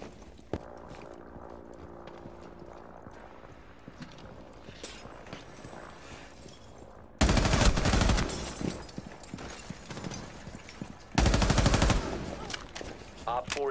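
Gunfire rings out in a shooter video game, arriving as two loud, dense bursts of rapid shots separated by a few seconds of quieter rattling ambience.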